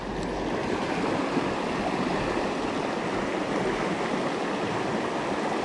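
Steady rushing river water flows loud and continuous at a trout fishing spot, a broadband wash with no voices over it.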